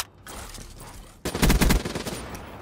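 Assault rifle gunfire in Call of Duty Black Ops 3: after a quieter stretch, a loud rapid burst of shots rattles out, then trails off.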